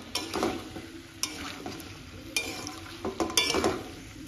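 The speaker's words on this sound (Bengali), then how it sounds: "আজকে আমি পেঁপে দিয়ে একটু চিকেন রান্না করছি" Chicken curry with papaya and potato is stirred in a sizzling frying pan, irregular scrapes and knocks of the spoon landing over a steady soft frying hiss, close and moderately loud.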